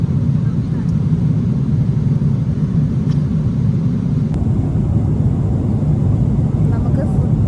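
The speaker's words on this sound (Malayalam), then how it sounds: "ഇപ്പോൾ ജസ്റ്റ് കയറിയതൊരു ഫ്ലൈറ്റ് റൺവേയിലേക്ക് പോയിക്കൊണ്ടിരിക്കും." Emirates airliner taxiing toward the runway at Dubai, heard from inside the cabin as a steady, loud low engine rumble and hum that holds unbroken throughout.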